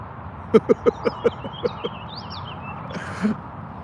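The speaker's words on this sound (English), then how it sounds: "I don't know what that bird's saying, but he is having a complex conversation with someone." A bird gives a rapid series of about eight sharp, evenly spaced chirps. A fainter call follows after a pause, over a light outdoor background with no voices.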